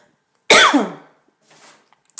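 A single sharp cough, close and loud, followed by faint breathy throat sounds in an otherwise quiet room.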